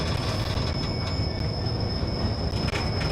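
A Network Rail railhead treatment train rolls into a depot siding, loud and close, with a steady rumble of wagons, a sustained high wheel squeal, and occasional clicks from the rails.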